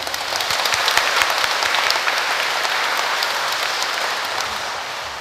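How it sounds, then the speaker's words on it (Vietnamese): Loud congregation applause inside a Catholic parish church during a Marian flower-offering celebration, a thick, continuous roll of hand clapping that stays steady and full throughout. "chúng ta hãy cùng chào nhau và chúc nhau bằng một tràng pháo tay thật lớn ạ"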